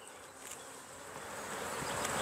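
Honey bees swarm and buzz around an open, honey-bound hive outdoors, a dense steady drone that swells slightly louder toward the end with no voices.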